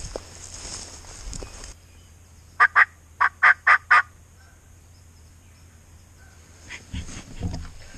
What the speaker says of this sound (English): we have a bird actually gobbling right now